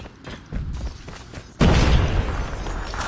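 Grenade explosion in Call of Duty Mobile, a sudden loud booming blast partway through after softer thumps and game noise, rumbling on to the end.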